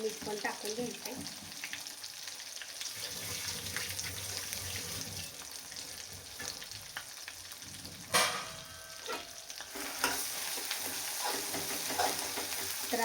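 Masala of onion and coconut for a dhaba-style egg curry fries in oil with a continuous close sizzle, broken by scraping stirs and a couple of louder clatters; water briefly runs in the background.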